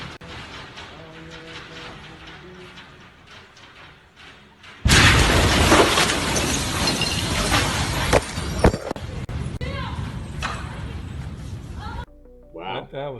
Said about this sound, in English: This is an explosion in a church.